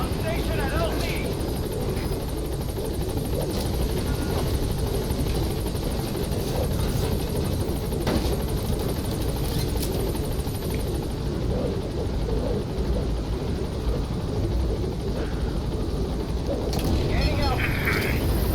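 A military helicopter in the Metal Gear Solid V video game arrives at a landing zone, its loud, steady rotor and engine drone filling the whole stretch while radio-style voices talk over it.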